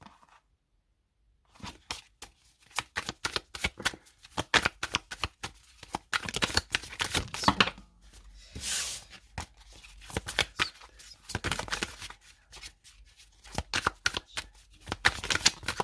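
A tarot card deck being shuffled and cut, with rapid crisp riffling flutters in repeated bursts and brief pauses, close and fairly quiet, no talking over it.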